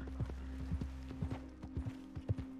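Hooves of a horse in Red Dead Redemption 2 clop in a steady walking rhythm, a dozen or so soft close thuds over a low constant hum, with no one talking.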